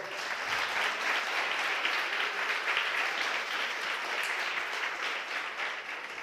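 A church congregation claps for the Lord in sustained, dense applause, loud and steady throughout with no speech over it.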